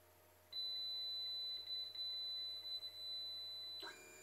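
A single sustained electronic beep from the bed leveling sensor on the print head of an Anycubic i3 Mega 3D printer, holding steady for about three seconds before cutting off, clear against a quiet room.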